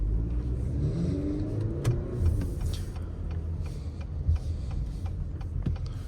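A 2024 Acura RDX A-Spec Advance on the move, its engine a low steady rumble from inside the cabin with a few faint clicks and a brief swell as it pulls along.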